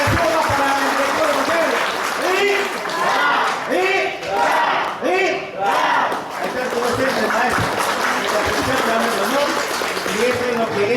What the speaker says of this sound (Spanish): Fuerte aplauso para nuestro maestro